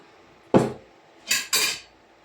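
A lid lifted off a pan of upma, giving one clanking knock and then two quick, bright metallic clatters in close succession, loud and near with no talk.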